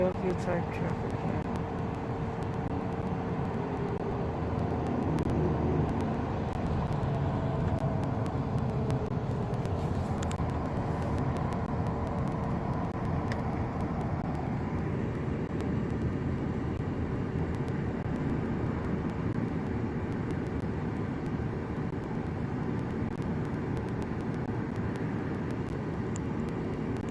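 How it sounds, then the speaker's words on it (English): Traffic jam in Philadelphia with cars idling, a steady low engine rumble and road noise continuing throughout, with people talking nearby over it. "So we're in a Philadelphia type traffic jam."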